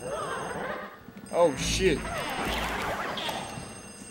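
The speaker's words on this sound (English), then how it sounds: "as you can hear, a telephone is ringing, and this is the telephone room" A telephone rings in the telephone room of the Luigi's Mansion video game, with bell-like tones under game effects and a voice talking over it.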